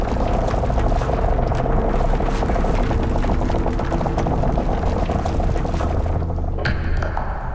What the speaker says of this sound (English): What you're listening to is an actual recording of a glacier as it plows its way through a mountain range